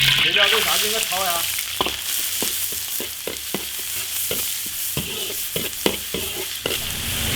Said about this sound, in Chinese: 这料都下去给它炒呀